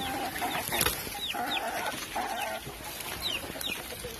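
Chickens on a poultry farm cluck steadily in a dense flock, with repeated short calls rising over a busy continuous background of fowl noise, fairly close and moderately loud throughout.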